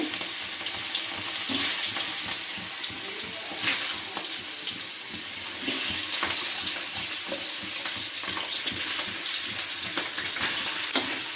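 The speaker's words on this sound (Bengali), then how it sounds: "মাথাটা ভেজে নেব তেলের মধ্যে" A fish head fries in hot salted oil in a wok, a continuous crackling sizzle with irregular pops and bursts running throughout, fairly close and steady with no talk.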